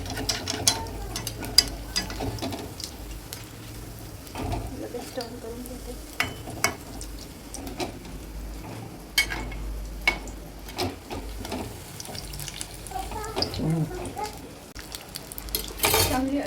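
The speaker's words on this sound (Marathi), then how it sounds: "एका बॅचमध्ये 4 तळून होत आहे छान छान." Snacks deep frying in a pan four per batch, a steady bubbling sizzle with occasional utensil clinks and stirring, a voice talking over it.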